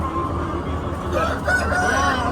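Đông Tảo chickens on a Vietnamese farm crow and cluck amid steady broadband background noise, with the calls moderately loud and overlapping.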